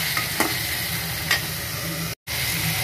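Turmeric sautéing in a hot pan for a Tamil prawn thokku, a continuous close sizzle with a few soft stirring scrapes and a brief dropout near the end.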